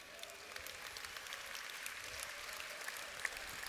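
An audience at a talk claps steadily for several seconds, a dense, fairly distant wash of applause with scattered louder claps and no talking over it.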